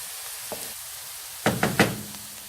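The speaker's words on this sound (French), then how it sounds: "غادي نزيد الثومة ونحرك مع التحريك المستمر" Onion and garlic sizzling in a pan during moussaka preparation, a soft sizzle broken by a few close clattering scrapes and knocks of a utensil as the mixture is stirred, with no voices.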